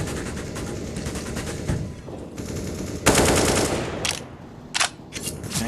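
Rapid submachine gun fire during a professional Counter-Strike match on the Overpass map: sustained automatic bursts rattle continuously, jumping louder partway through, followed by a few shorter separate bursts.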